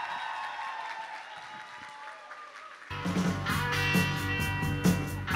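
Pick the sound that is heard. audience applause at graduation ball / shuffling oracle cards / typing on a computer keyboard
audience applause at graduation ball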